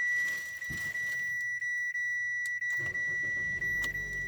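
A 2019 Nissan Livina VE engine cranks and catches, settling into a low idle, while a steady high electronic tone and faint beeps sound from the dashboard.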